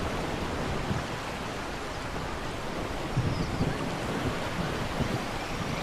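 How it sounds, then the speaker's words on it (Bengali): Stormy river waves and gusting wind in a Bangla cartoon scene of a boatman caught on a storm-tossed river; a steady, dense roar of churning water and wind runs throughout with no voices. "এই নদীর পানি তো ঝড়ের প্রকোপে উত্তাল হয়ে উঠেছে"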